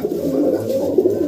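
A Makoya pigeon, a breed brought from Punjab, coos softly and steadily in a low, murmuring tone, close by and continuous, with no talk over it.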